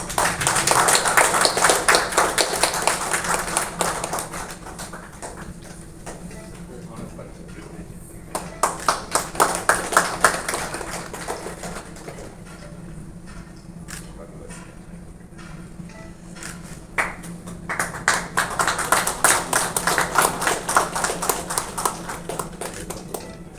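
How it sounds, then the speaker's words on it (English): Bursts of rapid hand clapping from a seated audience at a hospital ENT department inauguration, fairly close and loud, rising and fading in three waves with quieter gaps between. "Can you all please give a big round of applause?"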